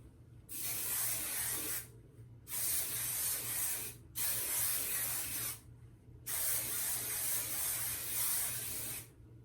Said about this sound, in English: gonna go in with my Aussie Headstrong Volume Hairspray, and I'm just gonna spray it all over